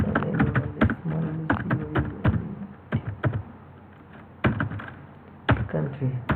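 Someone types a letter in Microsoft Word on a computer keyboard, the keys clicking in quick clusters separated by short pauses, heard up close.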